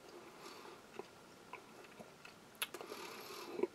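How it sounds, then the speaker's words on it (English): Firm, crumbly 65% cocoa chocolate from a French army field ration is chewed close to the microphone, giving faint, soft crunches and a few sharper bites toward the end, with no talking. "When you chew it, it crumbles into little powder."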